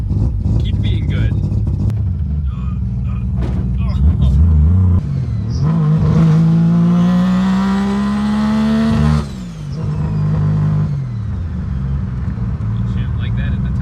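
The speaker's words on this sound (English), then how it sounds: "you can hear how piercingly loud this car sounds" A Mazda RX-7 with a three-rotor engine, boosted to about 20 PSI, revs hard on a dyno: a loud, piercing rotary roar rising steadily in pitch for several seconds, then dropping off sharply, with voices over the engine noise.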